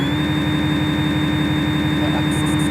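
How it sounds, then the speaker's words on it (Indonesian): Steady whirring hum of a simulated CNC lathe running in SSCNC Fanuc 0i-TC software, constant and unbroken with a high whine on top and a few faint beeps near the end. "lalu nyalakan mesin kembali."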